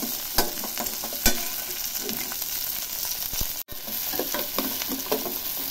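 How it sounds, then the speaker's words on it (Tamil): Shallots, garlic and curry leaves sizzle in a pan while being stirred, with steady frying hiss and several sharp spoon clicks and scrapes against the pan. "போட்டு வணக்கலாம்"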